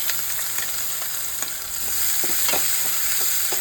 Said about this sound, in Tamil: அடுத்தது வெங்காயம் போட்டுக்கலாம். இது சின்ன வெங்காயம்.